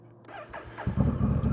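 A Honda Rebel 1100 motorcycle engine cranks briefly with a rising whine, then catches and settles into a loud, close, low throbbing idle.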